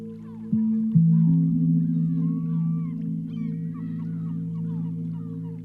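Wild waterbirds honk and call near a canoe, a deep droning honk holding steady under softer chirps and warbles from other birds scattered in the background.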